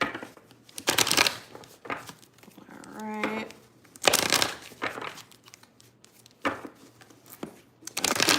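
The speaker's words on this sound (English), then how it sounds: "Let's do a few shuffles here." A deck of tarot cards being shuffled by hand in several quick riffling bursts with short pauses between, close and crisp, with a brief spoken word near the end.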